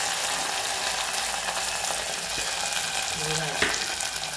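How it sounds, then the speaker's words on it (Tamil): Onions frying in hot oil with garlic, mustard seeds and curry leaves for a dried fish curry, a steady close sizzle running the whole time with a few faint stirring scrapes. "நல்லா வெங்காயம் வதங்கணும்."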